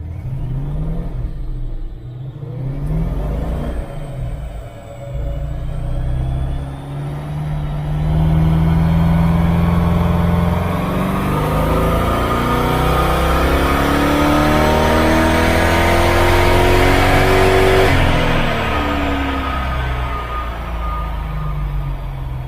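A Holden 355 stroker V8 revs steadily upward under load on a dyno, the tone rising and building to a loud sustained roar near 5,800 rpm before dropping off near the end.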